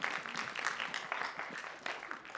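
A lecture audience gives a short, moderately quiet round of applause in a classroom, steady scattered clapping lasting a couple of seconds.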